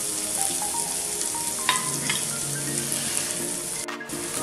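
Potato pieces, crushed by hand and salted, hit a hot oiled pan for Mumbai-style vada pav filling, giving a steady close sizzle and frying hiss with a few stirring scrapes and clinks, no voices.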